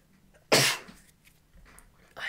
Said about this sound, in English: I'm gonna sneeze, damn it.